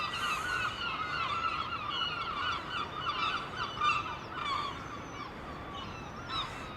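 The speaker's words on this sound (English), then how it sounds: "A lot of seagulls." Seagulls calling near a car park in the morning, a run of loud, harsh honking cries repeating one after another with short gaps, close by and with no talking.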